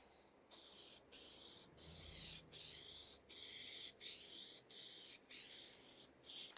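Raptor Liner bedliner coating being sprayed onto a Nissan coupe, heard as a series of about eight loud, close hissing spray bursts, each lasting under a second with short silent gaps between them.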